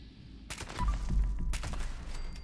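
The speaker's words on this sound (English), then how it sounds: "And everybody else is in here shooting." Gunfire in the video game Fallout 76 from a furious explosive handmade rifle, two loud bursts of rapid shots with booming low-end blasts, close and dense, the second burst cutting out abruptly.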